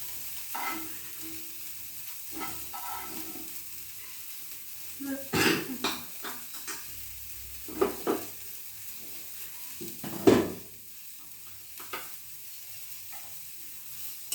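Eggplant frying in oil in a pan, a steady sizzle broken by occasional clattering stirs and utensil knocks against the pan, close by, with faint voices at times.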